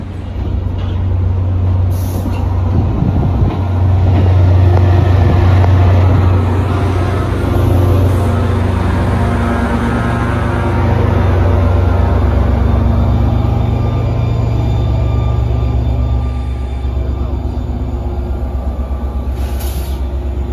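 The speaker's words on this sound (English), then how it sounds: "Here goes the last train." A train leaving a station at Port Jervis, New York rumbles and hums for a long stretch, with brief hissing bursts of air brakes over the steady drone.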